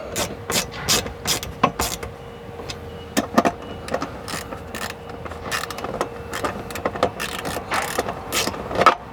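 A ratchet tightens the bolts of side Molle panels inside a Toyota LandCruiser LC300, making rapid, close clicking bursts in irregular runs with brief pauses between sets.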